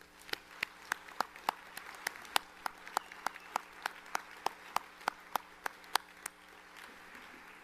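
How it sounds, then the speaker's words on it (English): At a spring commencement, a single pair of hands claps close to the microphone in an even, brisk rhythm of about three claps per second over a faint room hum, while the wider crowd stays quiet underneath. "Let's give our graduates a round of applause."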